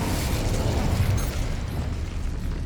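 The Incendio fire spell cast in the video game Hogwarts Legacy gives a steady, dense whooshing rumble with a muffled burst, loud and continuous throughout.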